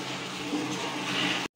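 Water runs steadily from a faucet in a bathroom of a house nearing completion, a continuous broadband hiss lasting over a second before cutting off abruptly.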